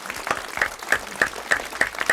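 A single person claps in a quick, uneven rhythm of sharp close claps, roughly three or four per second, over a faint background.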